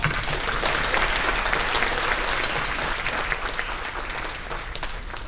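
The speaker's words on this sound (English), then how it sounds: "Please give this Hall of Fame and the Lohmann Medal recipients another round of applause." Audience applause fills a Hall of Fame and medal awards ceremony, dense steady clapping from a large crowd that holds strong and then eases slightly toward the end.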